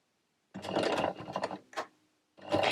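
A sewing machine stitching oil cloth in a straight line, running in close, steady bursts as it goes backwards and forwards, with short pauses between runs.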